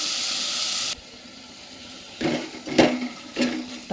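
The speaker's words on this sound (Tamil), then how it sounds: "தக்காளி வெங்காயம் எல்லாம் நல்லா வதங்கட்டும்" Tomato and onion sautéing in a pan for a taro root spicy tamarind curry: a loud steamy hiss first, then quieter sizzling with a few clinks of a utensil against the pan, no talk.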